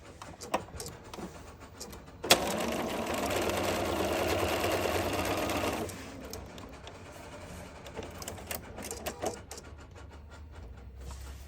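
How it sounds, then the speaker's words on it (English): Sewing machine stitching a quarter-inch seam on a wonky log cabin quilt block, a steady dense whir running loud for a few seconds between quieter handling noises. "Sew 1/4 inch seam just like you normally would."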